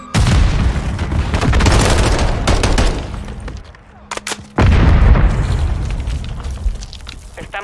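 A grenade blast erupts in Call of Duty Modern Warfare III amid heavy gunfire, with loud booming bursts, a brief lull, then another powerful explosion. Voices are heard over the battle.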